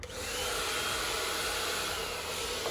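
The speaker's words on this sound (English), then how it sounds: "Grab your blow dryer." Hair blow dryer running on low heat during a lace frontal wig install, a close, steady airy whoosh with a constant motor hum throughout, no talking.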